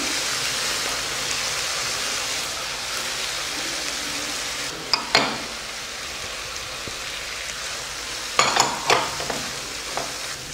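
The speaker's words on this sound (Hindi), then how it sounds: "ये अब इसके अंदर चिकन डाल देते हैं।" Chicken pieces fry with sautéed onions in a pan, a continuous close sizzle broken by a couple of short bursts of spatula scraping and clatter.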